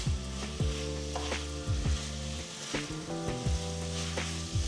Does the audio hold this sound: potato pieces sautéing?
yes